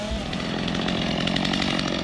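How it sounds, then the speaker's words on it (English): A chainsaw runs steadily at high revs while cutting down a tree in the woods, loud and close with a continuous buzzing snarl and no pauses. "Now when I chainsaw this tree down"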